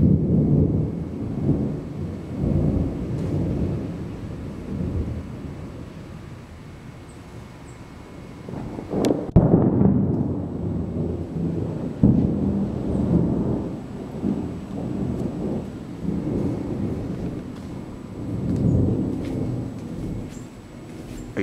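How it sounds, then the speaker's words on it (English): Thunder from a nearby thunderstorm rolls and rumbles in long low waves, with one sharp crack partway through followed by heavy booming that fades and rises again. "Ah, lightning strike and thunder make me very relax."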